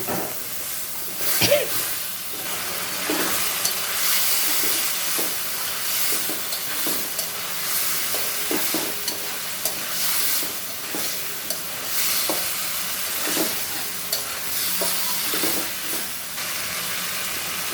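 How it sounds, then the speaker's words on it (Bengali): Spice paste of turmeric, chili powder and salt mixed with water sizzles loudly in a pan while taro stems cook in it, with steady frying hiss and repeated stirring scrapes throughout. "দেখো মশলা কষানো শেষ"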